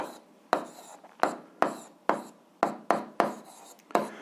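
Someone writes out an algebra expression by hand: about nine sharp, scratchy strokes in a steady rhythm, close and fairly quiet, with no talking.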